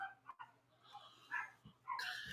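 Several dogs bark and yip in short bursts with a whimper or two, fairly quiet and spread across a couple of seconds against a low hum.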